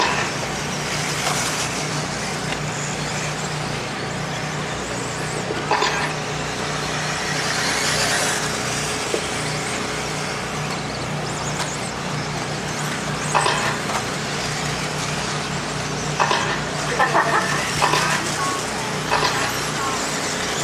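Several 2WD RC buggies race around a dirt track at an outdoor race event, a continuous buzzing whine of small electric motors rising and falling as they pass, with a man announcing over it.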